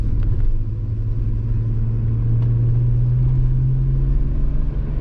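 A stock VR6 engine in an MK2 Jetta holds a steady, loud, deep droning rev around 3,000 RPM, heard up close with no talking.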